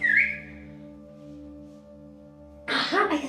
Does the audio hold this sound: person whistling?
yes